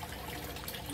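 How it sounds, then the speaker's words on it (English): Water drains through a T siphon in a DIY flood and drain hydroponics grow bed, a faint, continuous rushing gurgle lasting about a second, with no voices. "the T siphon is initiating and starting to dump the water."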